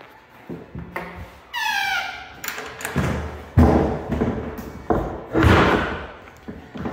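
A restroom stall door at a Books-A-Million store squeaks with a high, wavering creak, then bangs repeatedly with heavy thuds and slams that come at irregular intervals.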